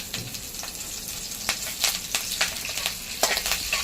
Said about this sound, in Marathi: आणि छान मिरच्या एकदम चांगल्या तळून घेऊया